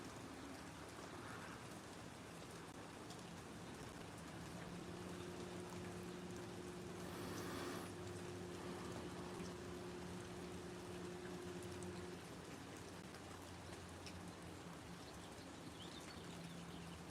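Steady rain during a thunderstorm makes a constant, even hiss of falling drops, faint and unbroken throughout, with a low steady hum underneath and a brief swell of heavier noise midway.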